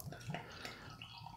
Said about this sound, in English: So it's pouring out with not a ton of carbonation.